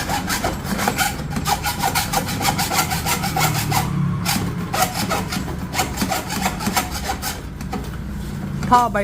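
A hand saw rasps steadily back and forth through an old two-stroke motorbike exhaust pipe, about 25 years old, with quick repeated strokes that stay loud and close throughout.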